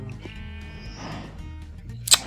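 A wavering sheep bleat in Minecraft, modded FTB Direwolf20 pack version 1.6.4, near a pen of four sheep. The call is moderate in level over low background hum and is followed by a sharp click near the end.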